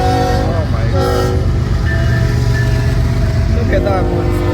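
A long train rumbles past a railway crossing, a loud, continuous rolling drone with a horn-like tone, heard from a waiting car.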